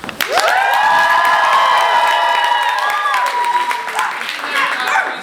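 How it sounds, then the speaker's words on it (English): A theatre audience at an improv comedy show cheers and whoops loudly, sustained shouts and clapping filling several seconds before tapering off. "if you prefer toast to bagels, cheer for me now"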